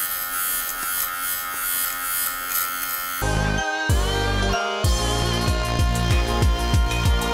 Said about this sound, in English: now we're gonna be using this lint shaver to shave off all the lint on the sock liner